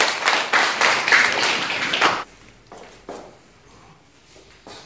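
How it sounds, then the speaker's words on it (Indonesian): Scattered audience clapping in a classroom-style practice teaching session, a short burst of hand claps for about two seconds before fading to a few isolated claps in a quieter room. "Tepuk tangan dulu."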